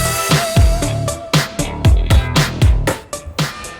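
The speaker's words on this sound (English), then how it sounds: "I still prefer the sound of the shutter of Sony A1. It sounds like this." A Sony A1 camera shutter fires in a quick series of about a dozen sharp, close mechanical clicks, irregularly spaced.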